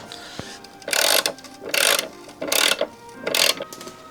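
A ratchet wrench tightens the mount bolts of a Sikky clutch master cylinder against the brake booster on an FRS/BRZ/86, four close, loud bursts of rapid clicking separated by short pauses.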